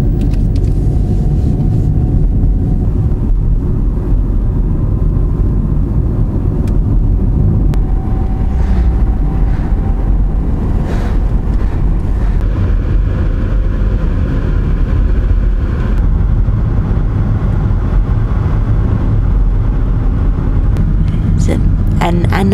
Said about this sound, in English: we are driving back through the Rockies at 3 o'clock in the afternoon